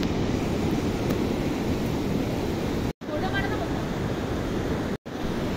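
The Seti, or White Gandaki, river near Pokhara, with milky white water, rushes in a dense, steady broadband roar close by, briefly cut out twice by recording dropouts.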